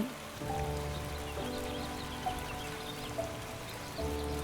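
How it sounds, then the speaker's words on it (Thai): Steady morning rain patters on surfaces nearby in Mae Taeng, Chiang Mai, Thailand, a continuous soft hiss with a few distinct drops, fairly quiet and without voices. "เช้าแล้วฝนก็ยังตกอยู่เหมือนเดิม"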